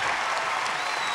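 A studio audience at a Kannada comedy show claps loudly and continuously, a thick wash of applause from start to end.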